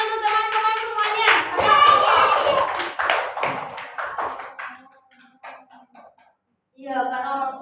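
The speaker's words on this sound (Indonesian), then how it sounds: "Tepuk tangan untuk teman-teman semuanya" Children clap their hands in a classroom during an Islamic religious education lesson, a busy patter of claps mixed with voices that thins out before a voice speaks again.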